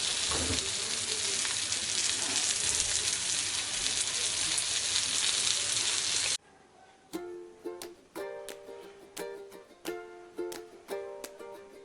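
Bangda fish coated in rava fries in a pan on a tawa, a loud steady sizzle for about six seconds, then quieter with a series of sharp clinks and taps over softer spitting.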